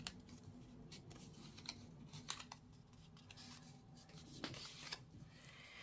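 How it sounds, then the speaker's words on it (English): Cardstock folded along a score line for a calendar: faint, close crinkles, rubs and creasing sounds, with a few small taps and a firmer press near the end, no talking. "So I'm going to fold over that score line."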